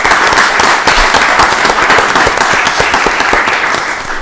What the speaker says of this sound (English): Let's give the future forward thinking of our county a round of applause.